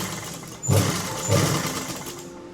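A sewing machine runs steadily as it stitches the edge seam of a lined kurti, joining the lining and main fabric, with a brief pause and restart in a continuous close whir.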